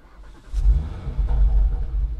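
An Audi RS3 with a Milltek exhaust and no particulate filter starts up, a quick crank followed by a deep, rumbling idle that swells and holds loud and close.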